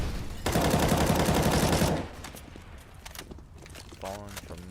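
Rapid gunfire from pre-firing angles in CS:GO bursts loudly for about a second and a half, then drops to quieter game sounds with a voice heard near the end.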